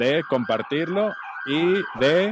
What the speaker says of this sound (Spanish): Eso era una ambulancia que pasó en tu casa seguramente.